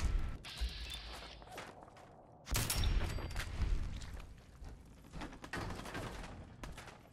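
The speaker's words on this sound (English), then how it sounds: "Now he's shooting me." Gunfire in a modded Fallout game, a series of sharp shots with one heavy burst in the middle and scattered further reports after it, mixed with thuds and movement.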